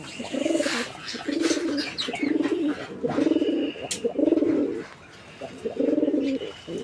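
Chila pigeons at a pigeon market coo in a steady series of about six rolling, throaty calls, close and fairly loud, with other birds and faint chirps in the background.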